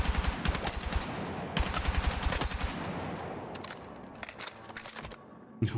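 Rapid bursts of L85 rifle fire in Battlefield 6, loud and close, with several fast automatic strings separated by short pauses, heard alone without talk.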